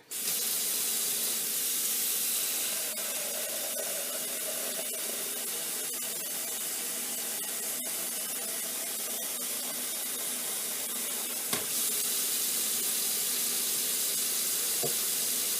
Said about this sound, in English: now what I need to do is I need to put in some water